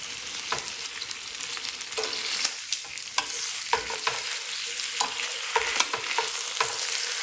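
Pieces of chicken sizzle in a hot pan with a bright, steady hiss, while recurring clicks and scrapes mark them being turned over. No one talks.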